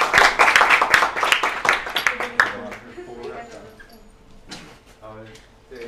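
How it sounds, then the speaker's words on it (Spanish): An audience claps for a speaker at a talk on creativity and new narratives, a loud burst at first that thins into scattered claps and fades out over a few seconds. "un aplauso para vos"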